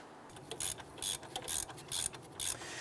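Ratchet wrench working a brake caliper bracket bolt loose on a Ford Explorer, a close run of bright, quick clicking bursts repeating roughly every half second, with no talking.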